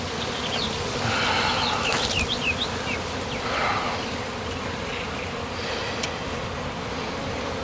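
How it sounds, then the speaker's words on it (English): A honey bee swarm hanging high on a tree limb gives off a dense, steady buzz, loud and close and unbroken, with a few faint chirps above it. "Watch the attitude of the bees."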